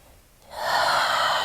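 A sharp, breathy sniff drawn through a blocked nose, rising suddenly and holding for about a second, close and fairly loud with no talking.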